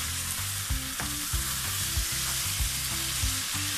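Chicken chana dal with halved green chillies is stirred in a pot, with steady sizzling and a series of rhythmic scraping stirs, close and alone with no talk.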